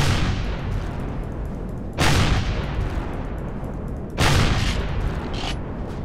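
Turrets open fire in the space survival game Empyrion Galactic Survival, loud booming bursts that start abruptly and crash in twice, sustained heavy rumble in between with no talking.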